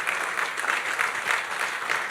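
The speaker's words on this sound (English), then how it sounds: "So please, another round of applause for His Excellency." Audience applause after an annual lecture: a dense, even burst of many hands clapping, steady and fairly close throughout.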